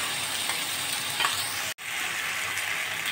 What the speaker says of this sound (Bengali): এখন আমি সর্ষে আর এই যে জিরে লঙ্কা বাটা আছে দিয়ে আমি আলুটা একটু কষিয়ে নেব